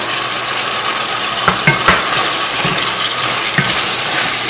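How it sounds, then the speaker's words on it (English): Meat pie filling with chicken seasoning and a pinch of salt being stirred in a pot, a steady soft sizzle and wet churning punctuated by several scraping clinks of the spoon, close and fairly loud. "And then stir."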